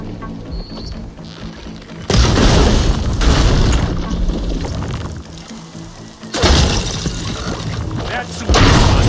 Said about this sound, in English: And they went boom.